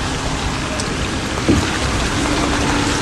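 Heavy, steady rain pouring during flooding in Kumaira, Oman, a dense, unbroken wash of drops drumming on surfaces, loud and close, with a brief thud partway through.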